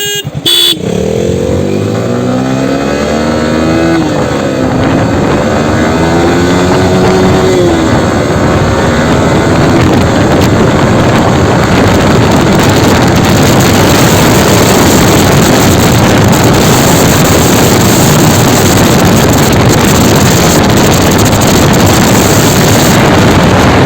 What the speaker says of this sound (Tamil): R15 V3Sஓட ஃபுல் த்ராட்லர் எப்படி இருக்குது, சவுண்ட் எப்படி இருக்குது